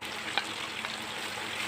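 Chicken pieces seasoned with turmeric, black pepper and sweet paprika sizzle while sautéing in a pan for rice bukhari, a steady, soft, crackling hiss with no talking.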